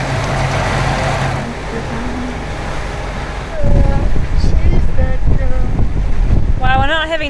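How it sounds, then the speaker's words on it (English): A sailboat motors straight into the wind off the Marquesas, the engine drone mixed with heavy wind buffeting and water noise, while people talk over it near the microphone. "we're not having the greatest motor in the world. We're heading straight into the wind"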